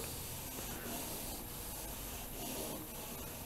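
Block sanding across guide coat on a 1962 Cadillac trunk lid with 80-grit paper, a continuous close scratchy rubbing in rhythmic back-and-forth strokes, fairly faint.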